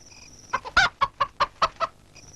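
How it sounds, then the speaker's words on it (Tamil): A chicken squawks in a rapid series of about seven loud, harsh clucks, close by, with no talking over it. "கோழி கத்துதுண்ணே"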